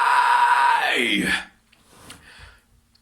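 A singer's fry scream, combining vocal fry with false-fold distortion, rings out loud and raspy for about a second and a half, sliding downward before breaking off into quieter breathy vocal noises.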